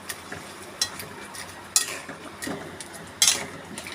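Crab curry in spiced masala is stirred in a pan. Brisk metal scrapes and clinks come every second or so over a low background, close and moderately loud, with no talking.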